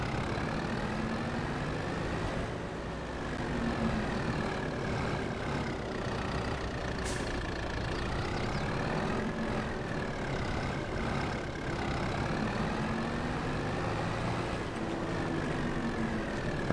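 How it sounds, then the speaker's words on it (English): A farm tractor engine drones steadily at low to mid pitch while pulling a heavy load. Its tone rises and falls slightly in a loud, continuous hum with no talk. "I doubt this tractor's gonna be able to pull this."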